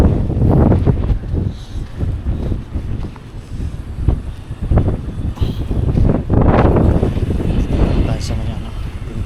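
Gusty wind roars steadily across the microphone, with rumbling surges and water-like wash beneath; voices speak intermittently under the blowing.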